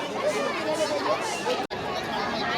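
Crowd of Sunday visitors at the Ekvira Devi temple, a dense, steady babble of many voices close around, with one abrupt brief dropout near the end.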